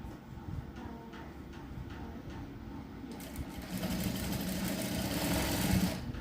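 A sewing machine stitches a blouse in a continuous mechanical whir, close and steady, growing somewhat louder and busier in the second half.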